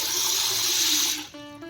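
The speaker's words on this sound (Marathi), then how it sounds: "ती स्वच्छ पाण्यानं धुवून" Water runs and splashes steadily as half a kilo of sorghum grains is rinsed, then it tapers off with a brief tonal squeak at the end.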